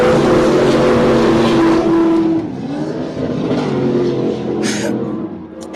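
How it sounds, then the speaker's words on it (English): An off-road race car spins out at the Wildhorse Pass track in Arizona, its engine roaring loud and close before the revving drops and wavers, with a sharp hiss of dirt near the end. "Looks like we got another vehicle spinning."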